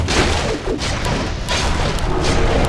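Warcraft III base under attack, with a dense, loud, continuous clatter of battle impacts, crashes and thuds, rising in bursts with no pause throughout.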